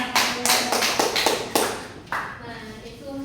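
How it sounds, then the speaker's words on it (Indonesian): A few people clap in a classroom during a teaching practice lesson, a sparse set of distinct, uneven bursts that taper off, with a voice faintly present. "Tepuk tangan dulu saya."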